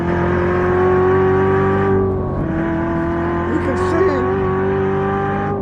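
A Corvette Z06 driven hard on a track in track mode, heard from the cabin as a loud, steady engine drone with a slight dip in pitch midway, continuous throughout.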